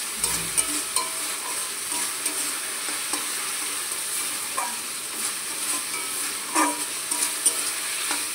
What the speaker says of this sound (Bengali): হালকা দেখো একটু কাশ্মীরি লঙ্কার গুঁড়ো দিয়ে দিই, হালকা দিয়েছি যাতে একটু কালারটা ব্রাউন হয়